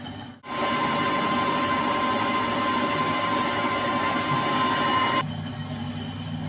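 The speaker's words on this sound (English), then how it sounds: "Now we're going to machine this outside down and leave ourselves with about 10 mil." A lathe machining down the outside of a custom Harley-Davidson motorcycle part, a steady loud whirring cut with a constant tone that runs for about five seconds, then drops to a quieter motor hum.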